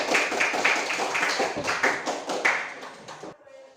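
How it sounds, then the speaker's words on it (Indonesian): A group claps together in a classroom-style session, a dense run of sharp hand claps lasting about three seconds and then stopping abruptly, leaving near silence. "Tepuk tangan untuk kalian."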